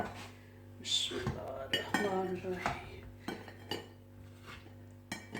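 Fried coconut cookies being dished out, with close clinks and scrapes of utensils against a dish and pan in a home kitchen, a few sharp taps spread through the moment.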